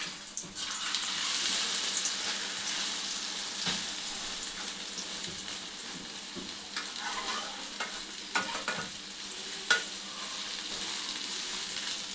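An omelette with onions fries in a pan, a continuous loud sizzle with occasional scraping and tapping of a spatula as it is turned, no voices.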